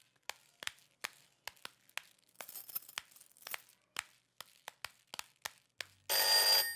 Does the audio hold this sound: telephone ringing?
yes